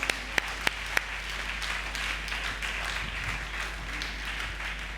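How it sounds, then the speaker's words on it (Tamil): A church congregation claps at a Sunday service, starting with a few sharp isolated claps and then settling into steady, moderate group clapping over a low hum. "நல்லா கைதட்டுங்க"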